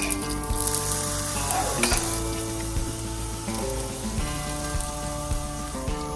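Potatoes and garlic sizzle steadily in a hot pan, a dense continuous fry with occasional clinks and stirring scrapes, loud and close with no talking.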